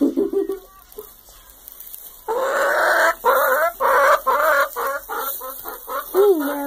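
Chickens cluck loudly and close in a rapid run of calls, after a brief stretch of quieter sounds at the start.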